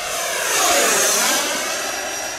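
An XFly T-7A Red Hawk 80mm electric ducted-fan RC model jet roars past, a loud, smooth whooshing whine that swells and shifts in pitch as it flies by.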